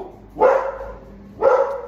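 A dog barks twice up close, two loud sharp woofs about a second apart with quiet between them.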